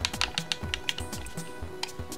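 Xbox Series S controller D-pad being pressed, a quick irregular run of sharp plastic clicks, close and dry with no talking.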